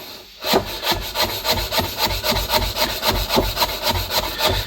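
Peeled garlic cloves cut and coarsely chopped with a sharp knife on a board: a quick, steady series of close knife taps on wood, evenly spaced and fairly loud.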